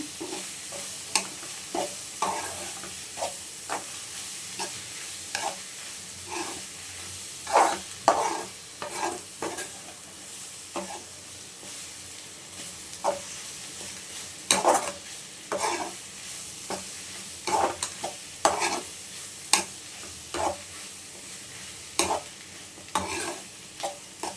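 Onions frying to golden in a pan for tomato thokku, a steady sizzle broken by repeated scraping stirs and clatters at an irregular rhythm, close and moderately loud, with no talking.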